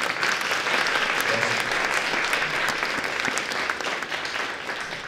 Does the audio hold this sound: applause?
yes